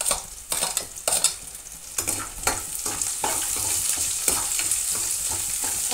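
Green chilies dropped into a hot frying pan of oil with tempering spices and onions give off a steady, close sizzle, stirred with sharp scraping clatters throughout.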